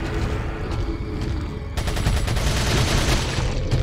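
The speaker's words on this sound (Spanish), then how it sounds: "Voy a tirar con la ametralladora." Sustained automatic gunfire from a machine gun in Resident Evil 4, loud and continuous, intensifying partway through into a dense barrage of rapid shots.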